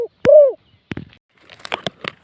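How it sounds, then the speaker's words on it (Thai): A zebra dove gives a single soft rising-and-falling coo up close, followed by a few scattered light clicks and taps. "นี่มังกรเงินกำลังขันครับ"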